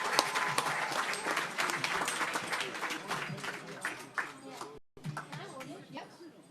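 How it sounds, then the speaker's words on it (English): Audience applause at a Dalai Lama 90th birthday event in NSW Parliament rises as a dense burst of clapping, thins out near the end with a brief dropout, and gives way to a speaking voice and handling noise. "So can we please give her a big round of applause?"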